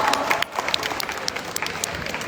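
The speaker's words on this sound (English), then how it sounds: "Give them a big round of applause." An audience applauds at a community health and wellness event for seniors, steady clapping from a crowd heard at moderate distance for a couple of seconds.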